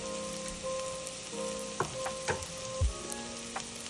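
Onions and ginger garlic paste fry in a home pan with a steady, soft sizzle, broken by a few sharp clinks and scrapes of a spoon against the metal.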